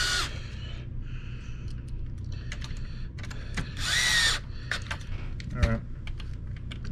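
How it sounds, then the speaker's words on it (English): Power drill driving screws into a Kenmore Progressive canister vacuum cleaner being repaired, with short whirring bursts and clicks amid handling noise, one louder burst near the middle, close by. "we get to thread some of these screws for the very first time"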